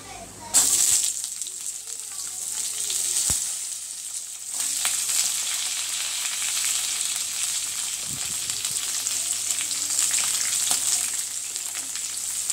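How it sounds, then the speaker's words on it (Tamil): Onion and curry leaves hit hot oil with a sudden loud sizzle that holds as a dense, steady hiss, with a sharp knock or two and a brief stir near the end. "இப்போ நம்ம வெங்காயத்தையும் கருவேப்பிலையும் ஆட் பண்ணிக்கலாம்."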